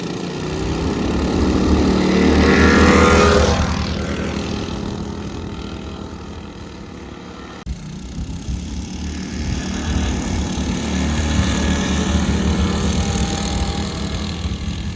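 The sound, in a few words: Wildcat 223 and Predator 224 engines racing on Trailmaster go-karts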